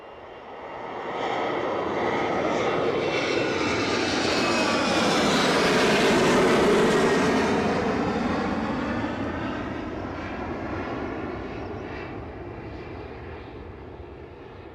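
A fixed-wing airliner on its departure to Faro roars loudly and steadily for about fifteen seconds, the jet engine noise swelling to a peak midway and then slowly easing as the plane climbs away, with no talking.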